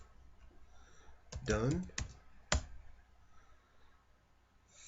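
Typing on a computer keyboard, a short burst of clustered clicks followed by a couple of separate sharp key taps, close and clear, with a person briefly speaking.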